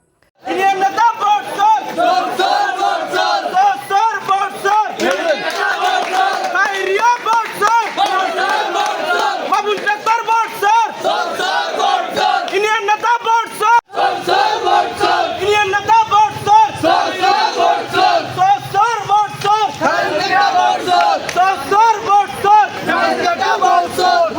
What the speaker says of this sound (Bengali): ভোটচোর আখ্যায়িত করে বিভিন্ন স্লোগান দেওয়া হয়